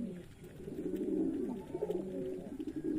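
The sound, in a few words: Giribaz pigeons cooing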